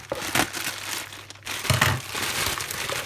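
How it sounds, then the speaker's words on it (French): Bubble wrap packaging being unwrapped and handled from a well-packed parcel, giving a steady run of crinkling and crackling plastic close to the microphone, with a brief pause near the middle before the rustling resumes. "Je vais garder le papier bulle,"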